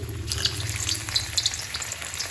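Bitter gourd (karela) frying in hot oil in a wok, a loud, continuous dense sizzle and crackle with no voices.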